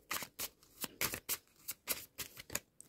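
Tarot cards are shuffled by hand in a quick, uneven series of soft, papery riffles and taps, close and fairly quiet, with no voices.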